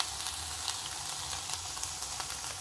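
Cumin seeds fry in a pan with a soft, continuous sizzle and faint crackle, steady and close but fairly quiet throughout.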